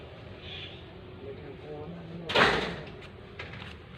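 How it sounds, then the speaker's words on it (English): A door fly screen is banged once with a sharp rattling thump partway through, over a quiet, low background hum, followed by a fainter knock shortly after. "coming to the door and banging the fly screen"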